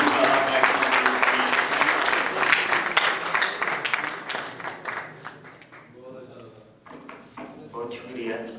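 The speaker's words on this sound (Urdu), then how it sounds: "خواجہ اسلم رضا نیلم سے تشریف لائیں اور زوردار تالیاں" Audience applause at an Urdu poetry gathering as a poet is called to the stage: loud, dense clapping fills the first few seconds, then thins and fades, with a voice speaking over the tail end.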